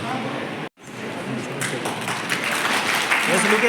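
School audience claps to welcome the chief guest at a singing competition event, a brief gap followed by building, steady applause with voices over it.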